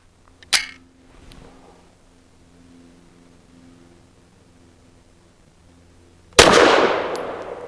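Two gunshots from a BUL Armory Ultralight PRO short snubby pistol firing 95 grain MagTech jacketed soft point rounds: a sharp crack near the start, a quiet pause, then a louder, close blast with a long decaying ring.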